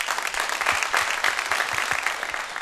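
Dense audience clapping in honour of a folk musician, close and steady for a few seconds with rhythmic accents.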